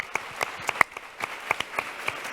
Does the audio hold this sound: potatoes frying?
no